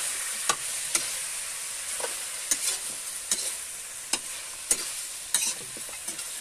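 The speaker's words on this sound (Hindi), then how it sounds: "अच्छे से मिला लेंगे इसको" Chicken karahi stirred in a pan, a steady sizzling fry with several sharp spoon scrapes and clinks spaced through it, close and fairly loud, with no talking.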